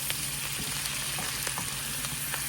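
Garlic stir fry sizzling in a pan: a steady, bright hiss of frying oil with occasional soft scraping from stirring, close and unbroken, with no talking.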